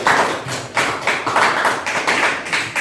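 Classroom applause, a group clapping in several quick bursts that swell and fade over a few seconds, fairly close and loud, with no talking over it.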